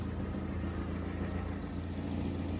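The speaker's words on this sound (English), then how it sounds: "The exhaust is a little bit louder than the other one" A Vauxhall Astra idles steadily with a deep, continuous exhaust burble, close and constant, slightly louder than a stock exhaust, with no voices.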